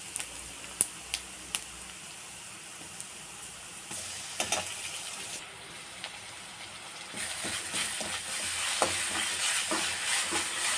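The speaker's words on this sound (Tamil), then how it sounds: "இதில் 1 ஸ்பூனு இஞ்சி பூண்டு விழுது சேர்த்து நல்லா வதக்கிடுங்க" Ginger-garlic paste sizzling and frying in a pan, with a spoon scraping and stirring in quick clicks, growing louder and steadier toward the end.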